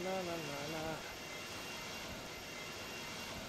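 An Iberia airliner in Microsoft Flight Simulator X, its jet engines roaring in a steady, broad hum on takeoff, with someone talking briefly over the start.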